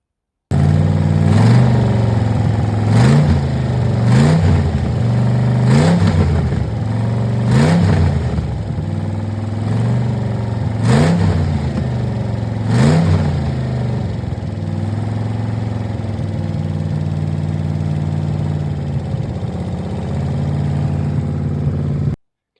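A 1978 Camaro V8 with a new fuel pump and gas lines runs loud and close, revving in repeated sharp bursts for the first half before settling into a rough, steady idle.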